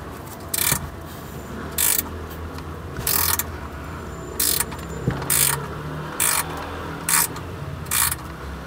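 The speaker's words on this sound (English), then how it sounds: "As you can see, it's cutting the thread in there now." A thread-cutting tap is ratcheted into the sump plug hole of a BMW oil pan, giving eight evenly spaced bursts of sharp ratchet clicks close by with short pauses between strokes.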